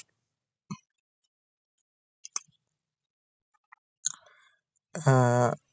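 A few sparse, sharp mouse clicks land on an online ad, spaced seconds apart in a quiet room. A short throaty voiced noise follows near the end.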